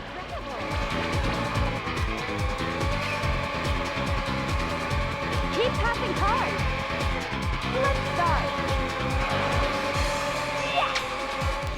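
Cars race and skid in the PlayStation 2 driving game Out Run 2006 Coast 2 Coast, engines roaring steadily while repeated tire squeals slide up and down in pitch, loud and close.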